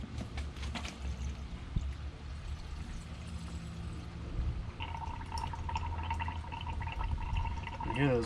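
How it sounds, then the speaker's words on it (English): Coolant glugs into the radiator of a Powertech diesel generator in a Foretravel motorhome, with air bubbles gurgling and trickling through near and fairly faint, followed by a brief clank and some clattering near the end. "You hear those bubbles coming through."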